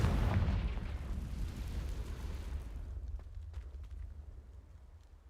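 A Confringo spell explosion in the video game Hogwarts Legacy bursts with a low, rumbling boom that fades into a lingering, crackling decay, fairly faint and without speech.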